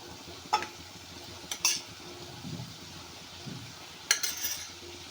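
Soaked poha is stirred into cooked onions in a pan, giving soft, faint scraping and a few light clinks of a spoon against the pan at a quiet, close distance.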